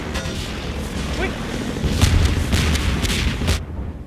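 Rocket explosions slam into the player in the video game Half-Life 2, a loud rumbling barrage of booms and blasts piling up over a couple of seconds before cutting off, under a busy roar of game noise.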